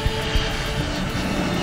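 A military aircraft engine roars steadily as the throttle opens, a loud and continuous drone that fills the whole moment with no voices.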